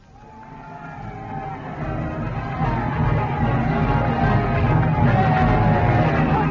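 A crowd cheers outside a big new building as a band plays, a rising swell of distant voices and hubbub that grows steadily louder across the clip, staged as a radio drama sound effect.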